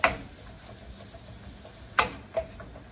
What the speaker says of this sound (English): now we're going to coat the stir-fry udon noodles with the sauce